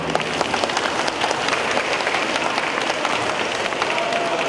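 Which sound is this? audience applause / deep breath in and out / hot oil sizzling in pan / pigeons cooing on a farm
audience applause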